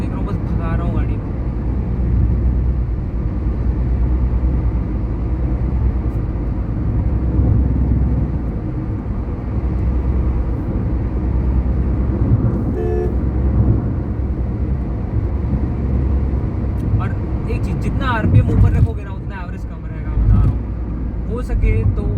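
A car driven briskly on a road without regard to engine RPM gives a steady, loud engine and road rumble throughout, with a voice briefly audible near the end.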